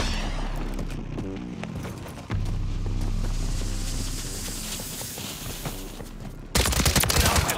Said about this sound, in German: Werde hier beschossen!